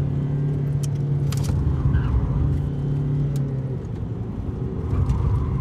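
Volkswagen TDI diesel car heard from inside while accelerating, a steady low engine drone and road rumble with light rattles and clicks, no talking.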